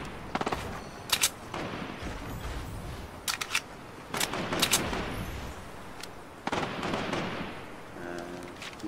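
Gunfire in the video game Fortnite Battle Royale: repeated sharp shot bursts and rapid volleys scattered across the scene, fairly loud against a busy game background.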